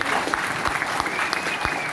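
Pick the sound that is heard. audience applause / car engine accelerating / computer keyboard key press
audience applause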